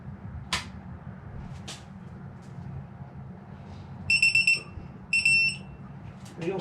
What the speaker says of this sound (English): got my torque wrench set to 11 foot-pounds. I'm just going to go around and torque all these down to 11.